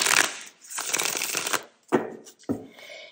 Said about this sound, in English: I shuffle the cards so I get the energy into the cards